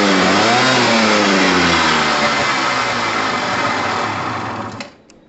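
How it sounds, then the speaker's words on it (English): A Gilera DNA 125 two-stroke motorcycle engine idles close up, a loud, buzzing, steady drone with a slight wavering pulse that cuts off sharply near the end. "Yes, I love a two-stroke sound."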